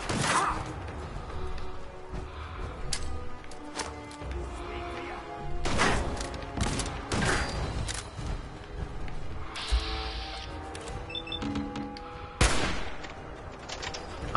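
Gunfire from a sniper rifle and a shotgun in a Fallout 4 battle, sharp broadband shots and bursts recurring throughout over a busy game soundscape with music and effects.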